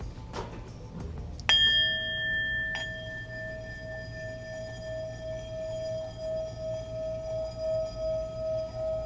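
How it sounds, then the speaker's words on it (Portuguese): A single bell strikes and rings out with a long, steady sustained tone that slowly pulses as it decays, after a few faint knocks. "O sino."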